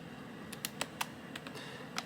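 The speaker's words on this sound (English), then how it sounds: "me trying to try out this keyboard basically" Typing on the keyboard of a Fujitsu Lifebook U820 small laptop: a handful of soft, light key taps at an uneven pace, close but quiet against faint background noise.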